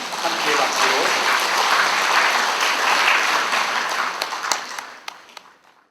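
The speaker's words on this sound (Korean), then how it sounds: "함께 박수로" Sustained applause from an audience at a tea-culture training certificate ceremony, a full steady roar of clapping that thins into a few scattered late claps before fading out.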